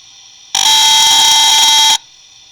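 A social distancing detector's buzzer sounds one loud, steady, high-pitched electronic tone for about a second and a half, then cuts off abruptly against a faint background hum.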